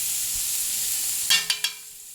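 Onions and garlic sauteing in a pan for a seafood stew give a steady, close sizzling hiss, broken near the end by three quick clattering stirs.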